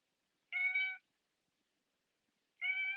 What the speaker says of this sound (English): There's a cat meowing.